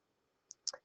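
Three quick, faint plastic clicks of keys pressed on a calculator while typing, isolated and crisp in a quiet room.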